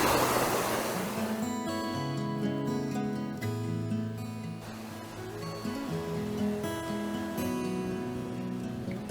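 Water rushes steadily from a waterfall beside a hiking trail with a river and bridges in Kazakhstan, a constant broad roar under layered tonal music, no speech heard.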